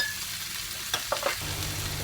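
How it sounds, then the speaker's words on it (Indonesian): Rice stir-frying in oil for Thai pineapple fried rice, a steady sizzle with a few sharp spatula scrapes and taps against the pan partway through, close and without talk. "bila kurang minyak bisa ditambahkan minyak supaya saat menggoreng nasi tidak lengket nanti"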